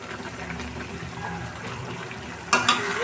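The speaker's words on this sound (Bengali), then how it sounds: "জল দিয়ে দিচ্ছি।" Water is poured into a pan of sizzling chicken roast, a low simmering hiss that bursts into a sharp louder gush and spatter near the end.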